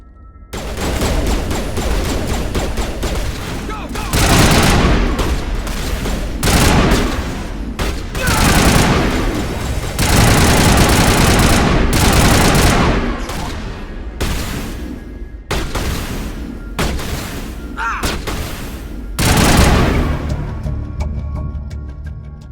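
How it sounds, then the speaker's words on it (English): Sustained gunfire in Mass Effect Legendary Edition, dense bursts of rifle shots and volleys in repeated waves, loud and close, with brief pauses between exchanges and occasional voices. "Open fire. Open fire!"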